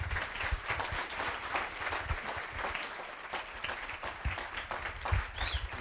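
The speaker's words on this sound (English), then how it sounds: "Please, un applause." Audience applause after a keynote lecture, a fairly quiet, steady patter of many hands clapping with a few sharper claps standing out, continuing without talk.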